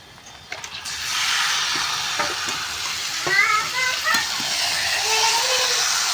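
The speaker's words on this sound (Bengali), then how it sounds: "চিকেনটা ম্যারিনেট করা রয়েছে, চিকেনটা দিয়ে দেবো।" Marinated chicken sautéing with onions in a pan sizzles steadily while being stirred, scraping and clattering up close, with faint background voices and some high chirpy sounds mixed in.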